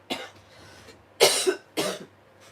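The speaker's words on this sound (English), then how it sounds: "Wretched cough, it won't go away." A person coughs three times, each cough a loud, raspy burst, with short pauses between them. The coughs are close and clear against a low background hum.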